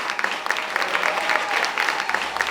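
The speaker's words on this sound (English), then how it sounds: "keep clapping for Erica Cobb" Live podcast audience applauding steadily, a dense crackle of many hands filling the short stretch at close, even loudness with scattered sharper claps.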